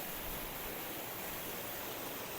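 Water from a waterfall pours with a steady, faint, broadband hiss, an unbroken rush with no rhythm or change, heard from some distance on a hike.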